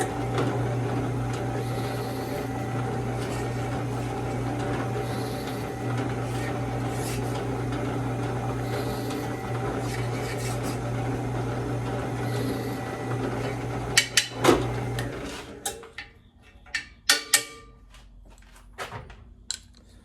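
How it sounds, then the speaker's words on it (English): A drill press cuts countersinks for screw heads in a knife handle, a steady machine whir holding for about fifteen seconds before it spins down and leaves a few sharp clicks and knocks alone. "let's cut our countersinks for our screw heads"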